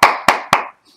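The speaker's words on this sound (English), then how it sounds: "This is the part where you clap." Three sharp hand claps in quick, even succession, loud and close, each with a short ringing decay, followed by near silence.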